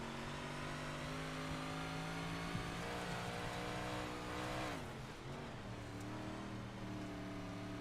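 Race car engine at a dirt-track Friday night race, a steady loud drone with harmonic whine that rises and falls as the driver works the throttle, dipping and swelling again near the end.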